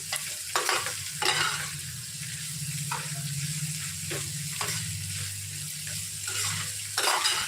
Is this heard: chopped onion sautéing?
yes